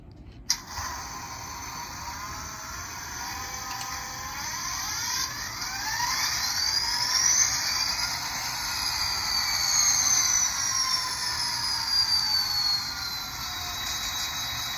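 A Bachmann N scale CSX CW40-8 model diesel locomotive starts up under track power, giving a steady whirring drone with rising and sliding electronic tones, fairly close and alone with no talk.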